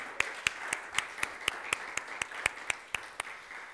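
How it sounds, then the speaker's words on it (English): A church congregation claps hands together in a steady rhythm, roughly four claps per second, crisp and moderately near, with no talk over it. "Let's give a hand clap to the Lord one last time."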